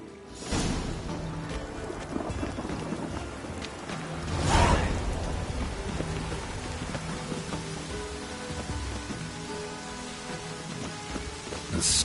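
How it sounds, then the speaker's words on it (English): Steady rain pours during a storm in The Witcher 3, a dense hiss of drops with a swelling rush of thunder or wind about midway, heard alone without talk. "A storm, damn it."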